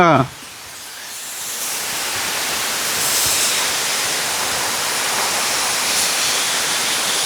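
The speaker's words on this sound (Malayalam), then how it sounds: "ചൂരത്തള വെള്ളച്ചാട്ടം വെള്ളച്ചാട്ടം ചെറിയ വെള്ളച്ചാട്ടമാണ്" Choorathala, a small waterfall in Chimmony wildlife sanctuary, gives a steady, close rush of falling water that holds an even, hissing roar without pause.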